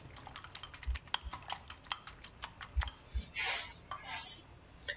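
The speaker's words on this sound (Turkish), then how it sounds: "Öncelikle yumurta, tuz ve karabiberi güzelce çırpıyorum." Eggs with salt and black pepper being whisked in a bowl, quick irregular clinks of utensil against the dish, fairly close, followed by a brief soft rustle near the end.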